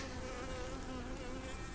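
Honeybees at a hive make a dense, continuous buzz with a steady drone, close and even throughout.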